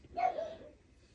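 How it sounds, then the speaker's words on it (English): A dog gives a single short bark, fairly close but not loud, over a quiet indoor background. "besides the dogs barking like crazy people"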